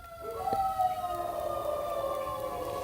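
Emergency vehicle sirens wail in the background, several long sustained tones sliding slowly downward in pitch, fairly faint and distant and heard alone, with no voices.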